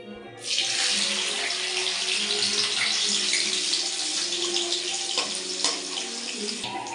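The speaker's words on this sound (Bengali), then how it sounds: "কিসমিসটা এইভাবে ভেজে দিতে হবে" Raisins hit hot oil in a pan while frying for biryani, bursting into a loud, steady sizzle that starts abruptly and continues evenly to the end.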